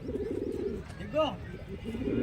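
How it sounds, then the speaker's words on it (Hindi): A newly paired male and female pigeon coo close by, a few soft, throaty rolling calls over a brief stretch with a quiet background. "देखो कबूतरी के पास पहुंच गया।"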